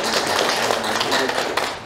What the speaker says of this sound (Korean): 우건식 회장님에게 먼저 박수 한번 좀 먼저